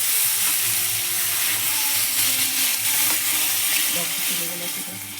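Vegetables fry in a pan with green chilli and a little sugar while being stirred, giving a loud, steady sizzle and hiss close by with intermittent scraping and clinking from the stirring.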